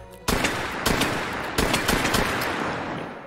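Revolver gunshots in the VR shooter H3VR: a handful of sharp, loud reports in quick succession, each followed by a lingering ringing tail, with no talking.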